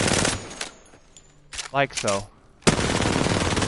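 Hipfire gunfire from Apex Legends, a near, loud sustained burst of rapid shots at the start and again from the middle to the end, with brief voice-like tonal sounds in the quieter gap between.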